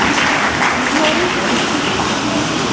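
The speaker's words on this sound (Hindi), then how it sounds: "जोरदार तालियों के बीच में हम चाहेंगे कि आप सभी अपना भी स्वागत करें।" Loud, dense applause from a crowd of children and guests at a Netaji Subhas Chandra Bose Jayanti program, a close, continuous roar of clapping filling the whole moment.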